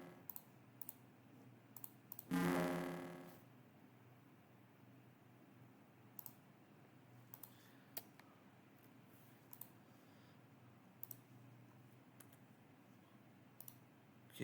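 A computer mouse clicks sparsely while working in Excel, faint sharp single clicks at irregular intervals over quiet room hiss, with one brief louder noise burst near the start.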